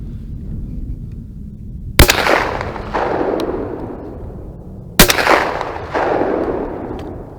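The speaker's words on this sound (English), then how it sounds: "Fire off a couple shells here." Two loud shotgun blasts from a light case-hardened shotgun fired outdoors in a winter landscape, about three seconds apart, each a sharp crack followed by a rolling echo that fades over a second or two.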